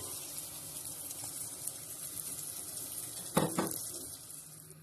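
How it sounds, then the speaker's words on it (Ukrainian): Water pours into a cooking pot of buckwheat, a steady broadband stream with a brief louder splash near the end, close and alone with no talking. "Додала гречку, додала наливаю водички."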